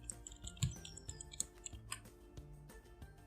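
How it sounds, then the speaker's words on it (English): Quiet keystrokes on a computer keyboard as a root password is typed on a Linux system, a few soft irregular clicks with one sharper tap, close and alone against a faint background hum. "type your root password."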